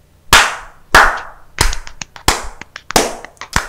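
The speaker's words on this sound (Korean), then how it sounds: "박수 한번 칩시다." A handful of sharp hand claps ring out close and loud, a few strong claps followed by quicker, lighter ones from a small group indoors.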